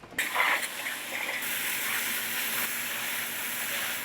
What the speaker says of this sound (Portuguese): a gente vai lavar ela na máquina, que é uma máquina de lavar ostra e marisco, e ela consegue lavar a alga também